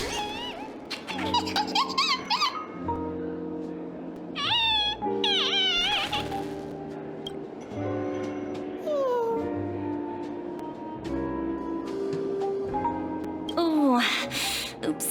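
Numby, a small creature in Honkai: Star Rail, gives a run of high, bright squeaks and chirps, rising and falling in pitch, over a continuous game music bed.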